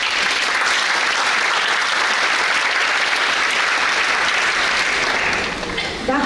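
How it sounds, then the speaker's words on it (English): Loud, sustained applause from an audience at a scholarship award ceremony, a dense wash of clapping hands that holds steady for several seconds before tapering slightly at the end. "Let's give her a big round of applause"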